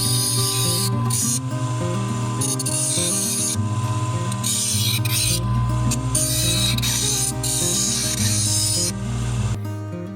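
A Scotch-Brite wheel sanding the edges of thin, light aluminum ribs for a Van's RV-12iS stabilator, giving a steady motor hum under continuous rasping and scuffing, with brief pauses as the work shifts.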